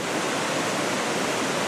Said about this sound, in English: this here is Yellow Creek Falls.